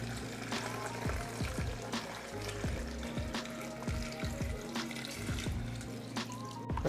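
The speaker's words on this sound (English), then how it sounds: "And to that, we're going to add 4 cups of water." Water poured into a blender holding baby guava for a blackberry guava drink, a continuous splashing, trickling pour with a few clinks, close and fairly loud.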